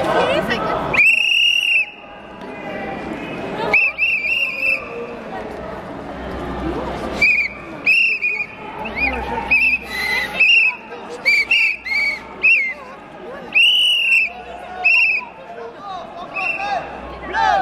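Repeated shrill whistles blown by a crowd of militants at a Front National political event, sharp piercing blasts recurring in bursts over steady crowd chatter and hubbub, with people talking throughout.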